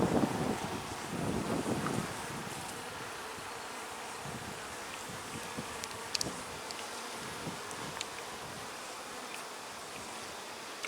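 A honeybee swarm colony buzzes densely around hive frames being inspected, a continuous close drone with wind rustling and a few handling knocks early on.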